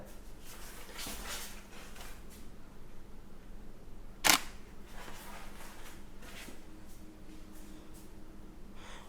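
A single sharp camera shutter click rings out once during white-background product photography with two lights, close and clear over a quiet room hum.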